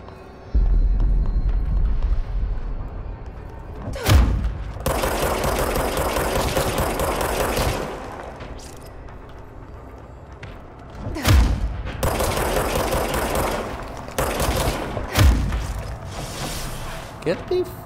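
Bursts of gunfire in the video game Control, with sharp impact-like cracks standing out over a steady, dense wash of noise and machinery, recurring several times at irregular intervals amid an ongoing firefight.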